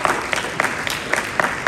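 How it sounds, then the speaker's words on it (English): A high school audience in the Hollywood High auditorium claps, with separate sharp claps coming through in an uneven rhythm. The applause is moderately loud and sounds fairly thin, not a dense ovation. "give yourself a round of applause for that."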